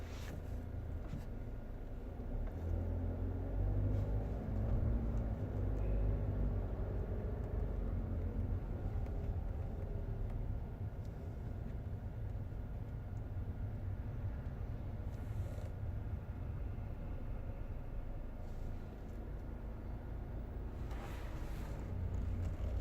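A car idles and creeps in heavy Friday-evening traffic in Reading, UK, during a food delivery run. Low engine and road rumble drones continuously from inside the cabin, with faint wind noise and occasional soft clicks and no talking.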